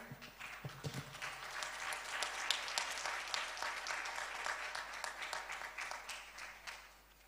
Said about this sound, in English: Huge, huge round of applause to our first runner-up